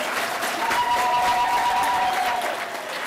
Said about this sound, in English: Let us all give them a hand of applause,